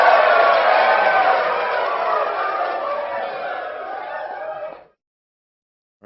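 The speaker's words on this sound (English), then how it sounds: "you go from your applause to your crowd cheering" A canned crowd-cheering effect from a Vivitar sound mixer kit plays as a dense roar of many voices, loud at first and easing slightly before cutting off abruptly, followed by silence.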